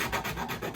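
A hand file rasps across the side of a 1985 Made-in-Japan Fender Telecaster part clamped in a vise, giving steady back-and-forth scraping strokes, close and even.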